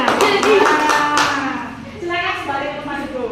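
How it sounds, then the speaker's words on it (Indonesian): A class of fifth-grade pupils applauds together in a classroom: a steady burst of many hands clapping, mixed with voices, fading slightly after the first second and then carrying on at a lower level. "Berikan tepuk tangan untuk dua-duanya."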